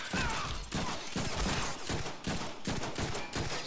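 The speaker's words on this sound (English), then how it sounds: "Stop shooting me." Rapid gunfire in the Deadpool video game, a dense, continuous fusillade of overlapping shots and bursts sounding loud and close throughout, with no talking.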